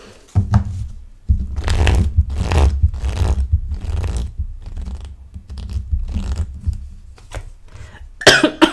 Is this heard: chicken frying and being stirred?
no